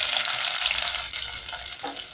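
Onions frying in a tablespoon of hot cooking oil for brown pilau, giving a steady close, loud sizzle that eases off slightly toward the end, with no talking.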